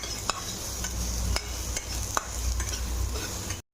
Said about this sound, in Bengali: এবার বড়িটাকে ভালো করে ভেজে নেব।